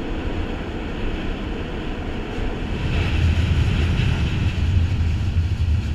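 Freight train leaving in Romania, a steady low rumble of rolling wagons that swells slightly louder partway through, heard close up with no talking.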